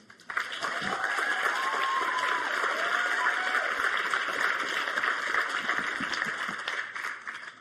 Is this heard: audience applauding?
yes